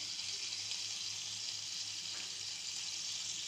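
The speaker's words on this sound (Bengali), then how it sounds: "আর আমি রসুন বাটা দিয়ে দিচ্ছি।" Garlic paste hitting hot oil in a pan while cooking spotted snakehead fish vuna gives a steady, loud, continuous hiss that holds evenly throughout with no talking.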